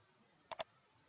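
Two quick, crisp mouse clicks in close succession, near and clear against a quiet background.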